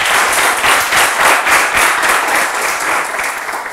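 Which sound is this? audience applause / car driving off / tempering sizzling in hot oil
audience applause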